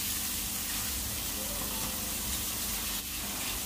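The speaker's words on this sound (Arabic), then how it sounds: "هشوح بقى كل الكلام ده كده دقيقتين بس" Colored bell peppers, spicy pepper and other vegetables sauté in a hot pan for a shrimp pasta, sending up a loud, continuous close sizzle and crackle with no break.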